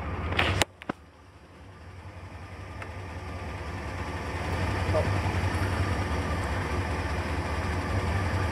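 A stock 1984 Corvette with Cross-Fire Injection idles steadily at about 600 RPM after a cold start, a low continuous rumble with a couple of brief clicks near the beginning.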